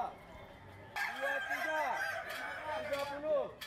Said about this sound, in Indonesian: Masing-masing ayam kukuak balengge ini memiliki irama khas dan bunyi kokoknya yang bertingkat